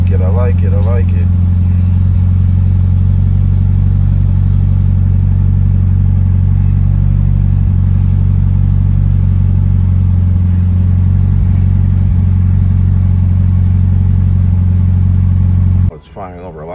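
A fully built 700hp+ Mitsubishi Evo 9 on flex fuel, its engine roaring loud and steady close by for about sixteen seconds, holding a high idle before cutting off abruptly at the end.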